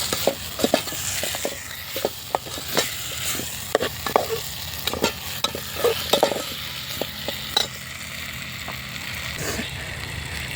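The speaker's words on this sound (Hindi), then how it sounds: "थोड़ा सा इसको भून लेंगे दाल को" Dal frying in a pan with repeated sharp scraping and stirring clicks over a low steady sizzle, close and moderately loud, no talking.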